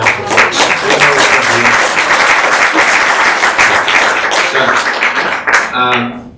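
An audience gives a full round of applause, loud sustained clapping across a room, with voices emerging over it as the clapping fades near the end.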